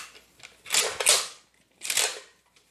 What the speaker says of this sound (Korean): 이 배럴 안에 있는 인너 바렐을 뽑아서 장전해 주는 거는 실제 장전 손잡이를 이용을 해주면 됩니다